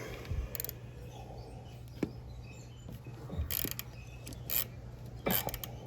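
A ratchet wrench, 5/16-inch or 8 mm, loosening a side-post battery cable terminal on a 2003 Chevy Cavalier that won't crank: faint, sparse clicking bursts in a quiet garage.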